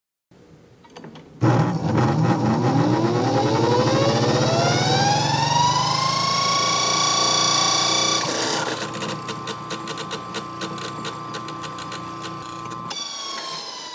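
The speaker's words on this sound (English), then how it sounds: "By moving the brushes to the left, the motor will reverse and run counterclockwise." Small brushed electric motor spinning up after its brushes are shifted to reverse it to counterclockwise rotation, a rising whine climbing in pitch then holding steady, loud and close, then settling to a lower steady hum.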